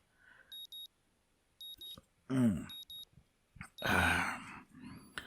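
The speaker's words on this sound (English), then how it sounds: "the sound of my alarm quickly has me up and about" An alarm clock rings in the video game Katawa Shoujo, sounding repeated short bursts of quick electronic beeps at regular intervals, broken up by a groaning voice and soft rustling.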